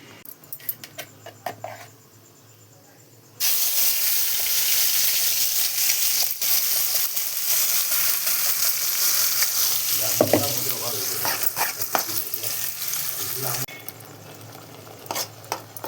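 Mustard seeds spluttering in hot sesame oil for a quick spicy chutney: a loud, continuous sizzle with crackling pops that starts abruptly after a few quieter seconds of clatter and fades near the end.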